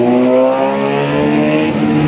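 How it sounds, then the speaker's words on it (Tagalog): An electric jeepney rolls through Manila streets with a steady, close motor hum and road noise, bright tonal whine lines holding level over a couple of seconds. "nakasakay na ako ng electronic jeep"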